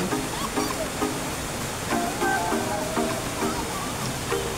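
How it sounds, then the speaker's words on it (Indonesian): Fast-flowing water of the Kelik River rushes in a steady, dense roar throughout, with people talking over it now and then. "mungkin karena airnya itu terlalu deras"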